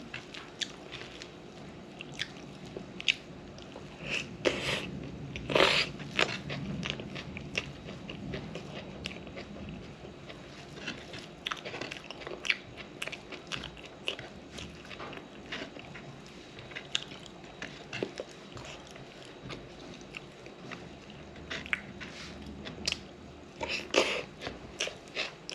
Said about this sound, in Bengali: ঢেঁড়স সিদ্ধ খেতে ভালো লাগে।